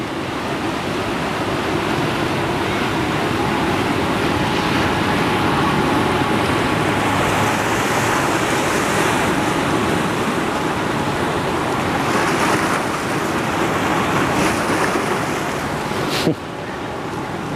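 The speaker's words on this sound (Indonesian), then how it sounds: "Inilah ombaknya gede, itu anak-anak kecil mandi berani ya." Big ocean waves crash continuously on a beach where small children are bathing, making a loud, steady roar of surf with broad wash and no break throughout.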